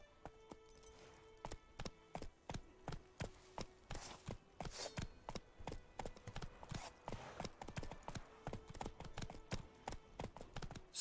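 Hooves of Geralt's horse Roach clop in The Witcher 3 Next Gen, a brisk, even rhythm of crisp hoofbeats close up that runs throughout, with a louder tail at the end.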